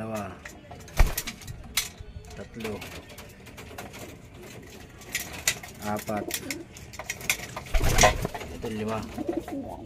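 Young racing pigeons, about six of them, coo softly in a loft, their low murmuring calls repeating under a person talking nearby, with a few clinks and thumps from handling around the coop.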